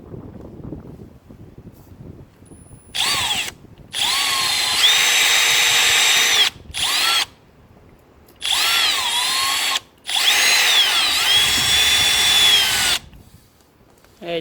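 Power drill bores holes into a BMW car bumper for rivets during an M Performance side skirt extension install: several loud, close whining bursts of varied length, separated by short pauses, with no talk.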